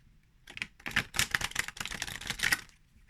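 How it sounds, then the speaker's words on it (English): A deck of tarot cards riffled close up, a fast dense flurry of papery flicks and snaps building over about two seconds before trailing off, with no talking. "let me just kind of riffle the other way to straighten out the cards"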